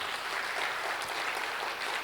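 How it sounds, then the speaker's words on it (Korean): Congregation applauding in a church during a Wednesday evening revival service, a dense, steady wash of many hands clapping together, fairly loud and sustained without pause. "우리 하나님께 영광 돌리는 박수 한번 하시고요"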